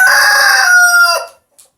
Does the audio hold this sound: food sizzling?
no